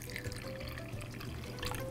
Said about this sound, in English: We're just gonna add a little bit of water